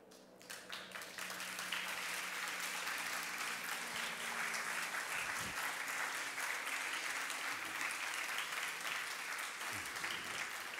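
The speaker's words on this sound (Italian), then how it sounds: "L'applauso è evidentemente rivolto alle conquiste delle donne." Steady, sustained audience applause fills a lecture hall, a dense wash of many hands clapping at even loudness from start to finish, heard at a moderate distance.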